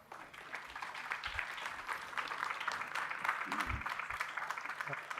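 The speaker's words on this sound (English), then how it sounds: "I request all of you to kindly give them a huge round of applause." An audience at an inaugural ceremony applauds the guests, steady clapping that holds at moderate loudness, with faint murmuring underneath.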